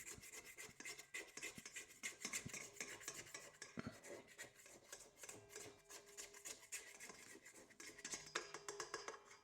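Dough is scraped down inside the steel bowl of a FOHERE 5.8-quart 600W stand mixer with a dough hook while making pizza dough, producing close, quiet, continuous scraping and clinking rasps with no talk.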